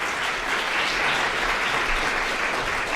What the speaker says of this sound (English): So I'd like you just to give a warm round of applause to welcome Mike Watts, please.